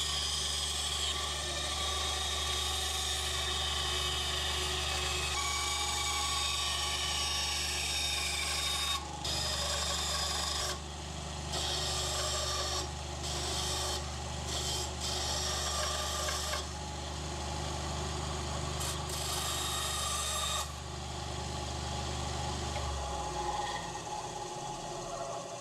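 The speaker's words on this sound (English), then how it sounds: "move over to the bandsaw and cut the body of the lure out" Steady mechanical whine of a bandsaw running, with rasping bursts as the blade cuts a wooden jerkbait fishing lure body, continuous throughout and fairly close.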